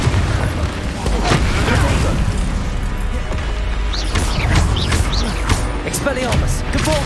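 Confringo blasting-curse explosions in Hogwarts Legacy, repeated booms and crashes amid spell-combat effects and shouting, with a voice calling out incantations over the loud, busy fight.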